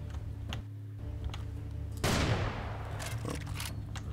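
Gunfire in Serious Sam 4: a few sharp shots with a loud burst midway, ringing out over a steady game backdrop, no talk.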